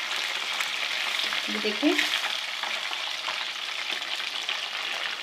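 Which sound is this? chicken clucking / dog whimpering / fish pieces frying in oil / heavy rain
fish pieces frying in oil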